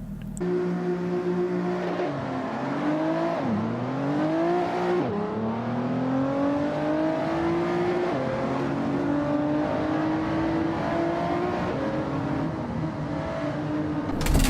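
A Lotus Exige V6 Cup race car's engine in a racing video game drones steadily with a buzzy tone, dipping and revving back up a couple of times early on, then holding a sustained, gradually climbing whine throughout.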